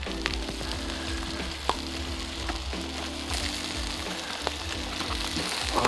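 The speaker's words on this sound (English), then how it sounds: "Ooh, look at him, nice and crispy." Peppered trout crackles in a deep fryer, a dense, continuous sizzle with scattered sharp pops and a steady low hum underneath, heard close and alone.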